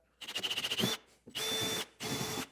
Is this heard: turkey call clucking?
no